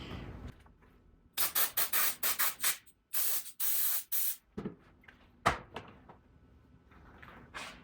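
Brake cleaner sprays from an aerosol can onto a 2024 Jeep Wrangler's transfer case drain and fill bolts in several loud, close hissing bursts of varied length, separated by quiet gaps and followed by a few short clicks and rubs.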